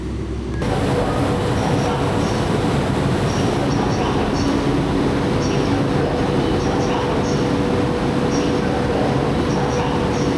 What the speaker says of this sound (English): I'm on my way to Dongguan, taking the train at Banyu, which is next to Guangzhou South Railway Station